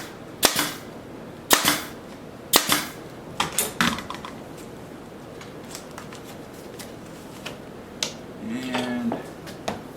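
A nail gun fires fasteners into woodwork for a Federal style patera, several sharp pneumatic snaps spaced a second or so apart, followed by softer handling clatter and a short hiss near the end.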